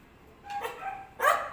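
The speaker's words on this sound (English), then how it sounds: "The dog again." A dog barks outside in a few separate bursts, moderately distant, with a louder bark near the end against a quiet background.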